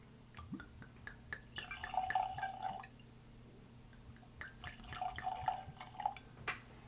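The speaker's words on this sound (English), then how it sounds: "I was listening to the glug glug, and there was equal glugs" Whisky poured from a one-liter bottle of Glenmorangie, two distinct bursts of liquid glugging and splashing into a glass, close and fairly quiet, separated by a pause with faint room noise and no talking.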